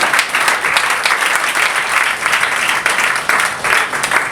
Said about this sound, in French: Applaudissez très bien.